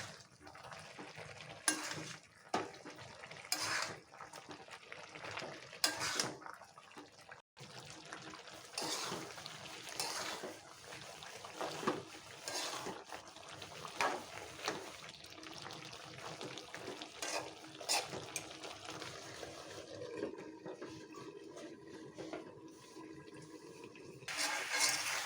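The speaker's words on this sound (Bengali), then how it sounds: "নেড়ে দিচ্ছি।" Spices and green chilies are stirred in a cooking pot, producing a quiet ongoing sizzle with repeated scraping and clattering of the spoon against the pot over about twenty-five seconds.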